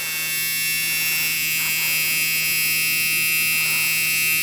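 A Case 4490 tractor's warning buzzer drones loud and continuous during a cold start, a steady electric tone that never pauses, with low engine noise underneath.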